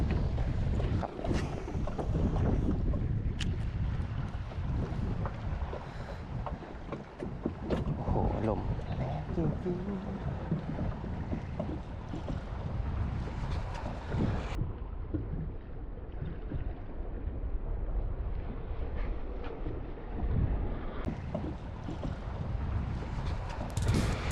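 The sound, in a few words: strong wind blowing outdoors while fishing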